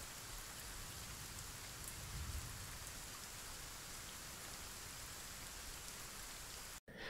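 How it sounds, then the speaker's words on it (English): Steady, dense rain hisses evenly in the game Skyforge, with a faint low thunder rumble rolling underneath partway through before the downpour cuts off briefly near the end. "now I've got rain where it's totally sunny. I think I've even got a bit of thunder rolling there"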